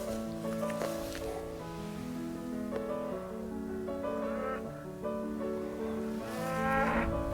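Cows low in long, steady moos across open farmland during a full-moon rising, a layered, droning chorus that carries on continuously at moderate volume with no talk over it.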